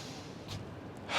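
A single deep breathing inhale, a short breathy rush of air drawn in close to the microphone, rising at the end, quiet and with no talking.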